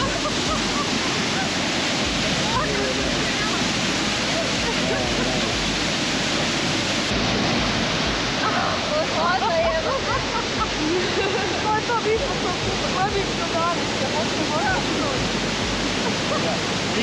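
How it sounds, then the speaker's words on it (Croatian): Ouzoud waterfalls in Morocco pour with a constant, loud, roaring rush of falling water, steady throughout, with faint indistinct voices occasionally rising beneath it. "s pogledom na najveći slap uz umirujuće zvukove vode"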